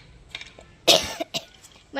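A sharp, loud cough close to the microphone, followed by two shorter throaty coughs, then a voice starts speaking.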